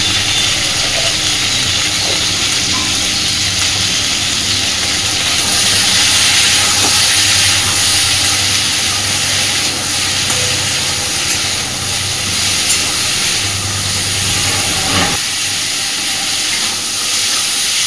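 Potatoes and pointed gourd frying with turmeric and salt give off a steady, loud sizzling hiss that runs through the whole stretch without pause.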